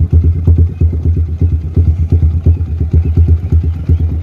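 Yamaha Vixion Advance motorcycle fitted with an Akrapovic exhaust, idling close by with a deep, rounded, bassy pulsing rhythm of even exhaust beats, loud and steady throughout, no talk.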